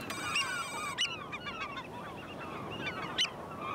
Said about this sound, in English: It's like a beep, beep, beep. It's a real chirp, chirp. That's the oyster catcher.